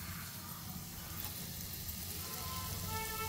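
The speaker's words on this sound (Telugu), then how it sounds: "తాలింపు అయిపోయిందండి. ఇప్పుడు ఇందులో పచ్చడి వేసేస్తున్నాను నేను." Soft, steady sizzle as raw green mango roti chutney hits a hot tempering with curry leaves, a gentle crackle throughout, fairly quiet and with no talking.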